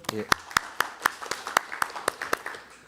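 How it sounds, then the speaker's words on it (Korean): A small audience at an election-law debate forum gives sparse, evenly spaced applause, with distinct individual claps at moderate distance and fairly faint, no talking over them. "박수로 환영해 주십시오"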